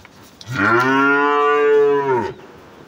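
A Holstein Friesian milking cow gives one sustained, loud moo at close range, rising quickly, holding steady for nearly two seconds, then stopping abruptly into quiet.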